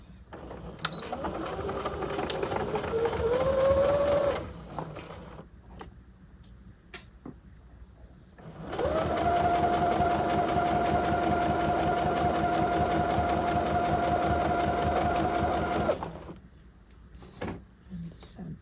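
A sewing machine stitches a welt pocket on a half-scale knit jacket, running without a walking foot in two steady bursts of motor whir separated by a pause, with a person talking between and around the runs.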